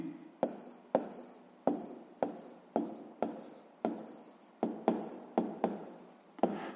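Handwriting a sixth-grade math exercise on proportional quantities, a pen makes quick rhythmic scratches and taps on paper in a steady run of short strokes, close and soft, with no talking.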